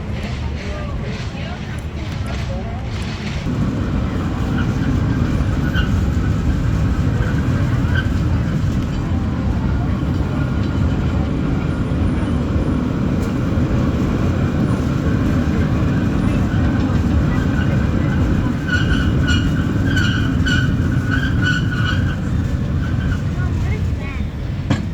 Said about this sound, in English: I have completed my ride on the cable car